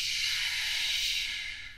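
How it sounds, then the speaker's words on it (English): Compressed air leaking from a line gives a steady broadband hiss with a faint whistling edge, close and continuous, fading slightly at the end, with no voices. "Leaks produce air turbulence at their origin with a distinct whistling sound."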